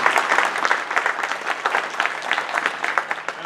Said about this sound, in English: So let's have a round of applause for all of our speakers.